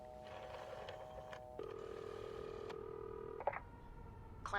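A hotel telephone call in the video game This Bed We Made: steady ringing tones hold for a few seconds, then a few clicks and a clunk as the receiver is handled, fairly quiet and without speech.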